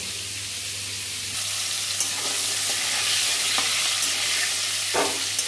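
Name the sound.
pointed gourd (potol) slices frying in a pan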